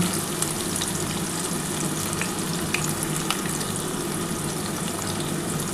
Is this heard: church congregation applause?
no